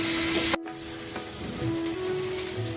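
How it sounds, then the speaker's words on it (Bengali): Spices sizzle and crackle in oil in a pan while being stirred for a mocha chingri dish, a steady close hiss with one abrupt cutoff. "মশলার কাঁচা গন্ধ যাওয়া অবধি আমি এটি নেড়ে নেব"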